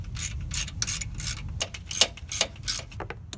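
Ratcheting clicks from tightening a strap down during a Chevrolet truck starter replacement, a rapid run of close, crisp mechanical ticks in short bursts with no talking.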